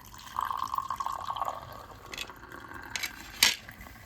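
Tea is poured into a glass at home, a soft liquid trickle running steadily for a second or so, then a few brief clinks and splashes, with no talking.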